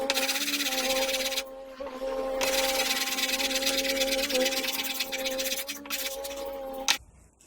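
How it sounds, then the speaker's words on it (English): A wooden jointer plane being sanded with 180 grit sandpaper gives a continuous close, loud rasping scrape in long strokes, with brief pauses between passes. "I went to the hardware store and got some 180 grit sandpaper right here, and I'll just sand it down."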